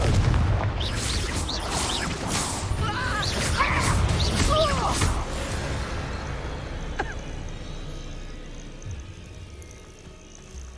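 Confringo spell blasts in a wizarding video game, heard as a dense run of booming, crashing impacts and whooshes over the first several seconds, easing to a quieter rumble with a sharp crack near the end.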